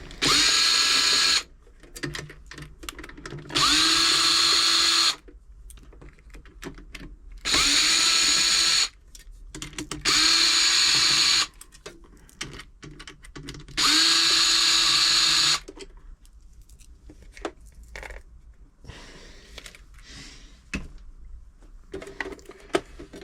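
An electric screwdriver removes screws from the bottom of a Janome JD1822 sewing machine, whirring in five loud steady bursts of a few seconds each, separated by quieter clicks and handling noise.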